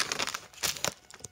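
Hands unwrap the packaging of an HG 1/144 Sigrun Gundam model kit shipped from Hobby Link Japan. Close, brisk crinkling and crumpling come in several short bursts over about a second and a half, with no one talking.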